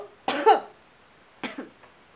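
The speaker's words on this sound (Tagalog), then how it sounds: "Sige, ubo pa." A person coughs during a doctor's check-up, two separate short, close coughs about a second apart in an otherwise quiet room.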